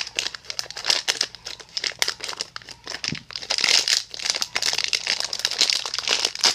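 Crinkly plastic packaging for a Shopkins Grossery Gang chocolate bar Christmas ornament is ripped and cut open, giving dense, close crackling and tearing bursts that continue throughout.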